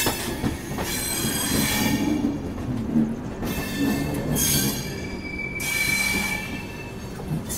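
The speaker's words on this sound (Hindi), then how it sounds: "पर अब यहाँ से ये ट्रेन जो है बांद्रा गरीब रथ जो है वो निकल जाएगी कोटा की तरफ" A Bandra Garib Rath passenger train rolls past nearby, its wheels squealing loudly and steadily throughout, with a high metallic screech rising and falling over the low rumble of the railcars.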